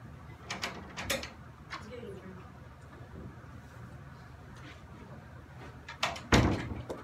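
A classroom door is handled with a couple of faint clicks and knocks early on, then a sharper, louder latch or slam near the end, heard fairly close over quiet room noise with light voices in the background.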